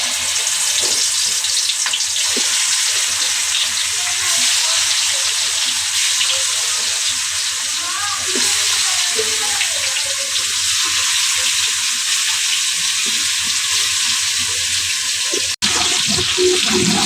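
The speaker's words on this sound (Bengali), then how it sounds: "তেল গরম হয়ে গেছে, মুরগিটা দিয়ে দিবে।" Chicken pieces frying in hot oil in a home kitchen, a steady dense sizzle with occasional stirring and clinks throughout, close and continuous with no talk.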